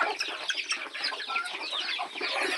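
Two-month-old desi country chicken chicks on a farm chirp and peep continuously in a dense, close chorus with no talking.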